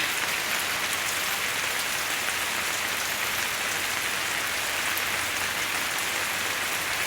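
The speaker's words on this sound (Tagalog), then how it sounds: "Umuulan po doon sa labas." Steady rain pours down outdoors, a dense, even hiss of drops hitting surfaces with no voices over it.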